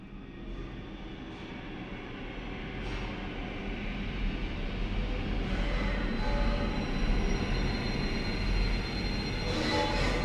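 A train in the video game Daymare 1994 Sandcastle rumbles with a low continuous drone that swells gradually, with faint metallic clanks on top and no speech.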